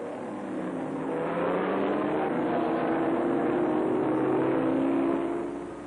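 Racing cars at a 1966 auto race roar past with a Ferrari in the lead. Several engines blend into one sustained drone that swells and then fades, carried on an old, slightly muffled recording with no speech over it.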